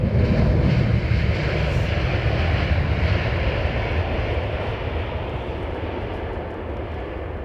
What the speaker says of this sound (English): that's got to be a 380 going out